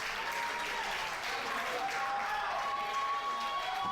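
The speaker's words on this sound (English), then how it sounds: "The crowd cheering." A crowd at a live event cheers and applauds in a dense, steady roar that holds for the whole stretch, with no single voice standing out.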